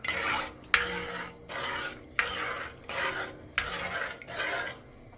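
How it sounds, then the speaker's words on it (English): Rice stirred in a cooking pot with a spoon, about five distinct scraping strokes in a steady rhythm, close and fairly quiet, with faint sizzling between strokes and no talking. "What I do is that I give it a stir."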